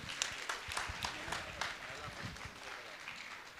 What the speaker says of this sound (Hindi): तालियां तो बजाइए आप